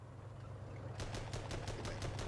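Rapid automatic gunfire rattles in a WWI tank action-strategy video game, a burst of about eight evenly spaced sharp shots over a continuous low engine rumble, all at steady close range.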